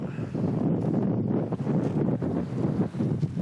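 Strong, gusty west wind on a cold New Jersey beach in Point Pleasant during the November surf season, roaring steadily into the microphone as a loud, continuous buffeting rumble with no voices.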